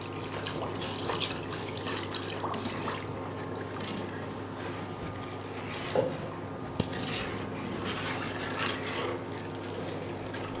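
Sugar and water are stirred together in a pan while making sherbet syrup for a simple Eid al-Adha dessert, a steady liquid swishing under a constant background hum, with one or two small knocks midway.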